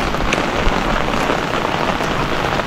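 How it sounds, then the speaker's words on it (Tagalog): Heavy rain pours down on a mountain hiking trail in Bukidnon, a dense, loud, unbroken hiss, with no voices. "malakas na yung ulan"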